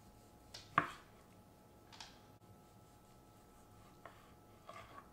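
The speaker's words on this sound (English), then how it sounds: "Go ahead and slice some right here too, the opposite side of that grain." A reverse-seared tri tip being sliced with a knife across the grain, heard as a few quiet, separate cutting strokes and taps on a board against a faint hushed background, no talking.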